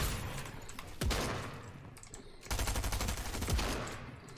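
Submachine-gun fire in the video game Fortnite, loud rapid bursts with a burst at the start, a single sharp shot near one second, and a longer rattling volley from two and a half seconds on.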